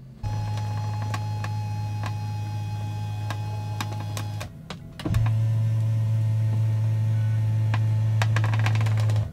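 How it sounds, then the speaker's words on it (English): A steady electric motor whine from the steering wheel adjustment motor of a Tesla Model Y runs for several seconds, pauses briefly, then resumes at a slightly different pitch, with faint clicks scattered over it. "the sound it makes when you are adjusting the steering wheel"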